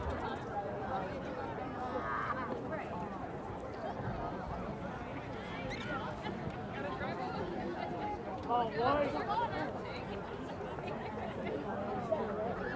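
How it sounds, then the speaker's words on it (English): A large crowd of spectators at a boys' high school lacrosse game fills the air with continuous chatter and murmuring babble, moderately distant and steady throughout, with a slight swell near the end. "A big crowd, though, here at Flay Hive."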